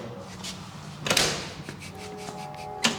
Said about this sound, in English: This is how you open the door.